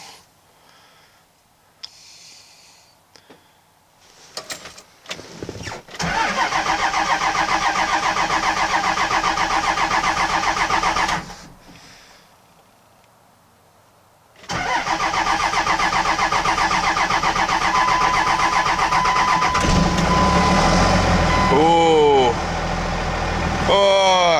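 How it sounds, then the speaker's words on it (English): Second-generation Cummins diesel engine in a truck being cranked over and starting up, a loud clattering idle running in two stretches with a pause between, close by, with brief voices around it. "at least see if we can get it to crank over"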